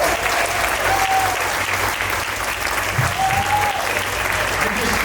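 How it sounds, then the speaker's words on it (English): An audience at the Strong New York fitness event breaks into a big round of applause, steady, loud and dense clapping with faint cheers throughout. "Give yourselves a big round of applause"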